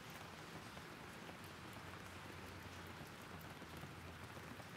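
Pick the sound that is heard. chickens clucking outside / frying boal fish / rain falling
rain falling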